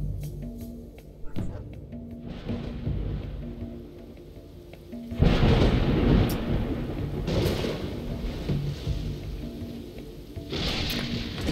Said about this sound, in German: Sturm.